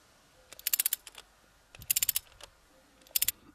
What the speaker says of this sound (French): quand je vais serrer un boulon